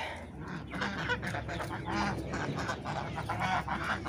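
Farmyard geese near a vegetable plot with ducklings about honk in a busy, overlapping chorus, moderately distant and fairly quiet, continuing steadily for a few seconds.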